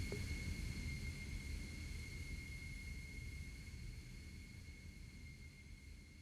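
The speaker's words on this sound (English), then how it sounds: "there's a jet flying over us right now" Low broadband roar of a jet aircraft passing overhead in a VRChat game scene, steady and distant with a faint high tonal whine above, slowly easing off.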